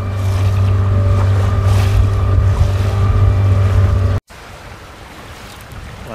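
Wind of about 20 knots roars steadily around a small trailer sailboat in a creek, a loud constant drone with a low hum that cuts off abruptly and gives way to quieter gusty rushing.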